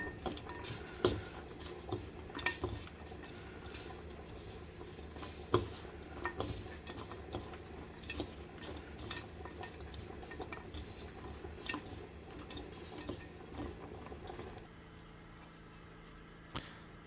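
A spoon stirs a cornstarch mixture for Egyptian koshari in a bowl, giving a soft, steady wet swishing with faint clicks against the sides, close and quiet, with no talk.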